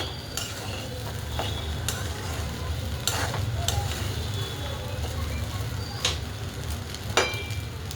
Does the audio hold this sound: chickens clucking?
no